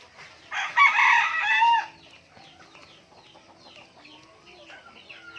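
A native chicken of about 2 kilos crows loudly up close for a couple of seconds, then quieter clucks and bird calls continue in the background.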